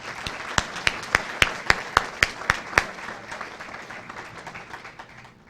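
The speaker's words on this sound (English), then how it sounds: "Ladies and gentlemen, please join me in applauding the next generation of building and design professionals." Audience applause at a college signing-day ceremony honoring building and design students: sharp, evenly spaced individual claps ring out over a bed of softer crowd clapping that gradually fades away.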